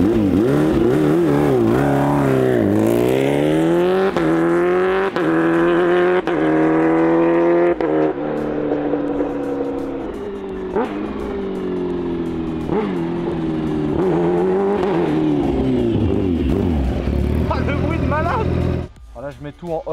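A Kawasaki H2R motorcycle of about 340 horsepower, fitted with a quickshifter, revs hard near the microphone, its engine climbing and dropping through repeated gear shifts with sharp cracks, and dominates throughout before cutting off at the end.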